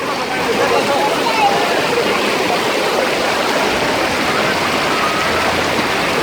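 Children splashing and playing in deep river water at Neelum Point near Kohala Bridge, Azad Kashmir, heard as a steady, loud rush of flowing water with splashes mixed in throughout.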